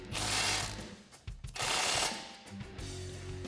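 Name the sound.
13mm wrench and socket ratcheting to tighten a bolt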